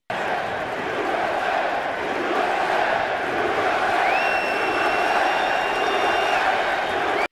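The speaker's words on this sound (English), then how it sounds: "the crowd starts the USA chant" Stadium crowd at a baseball game rumbles in a broad, sustained roar, loud and continuous with a rising swell, while a thin whistle-like tone cuts in during the latter half.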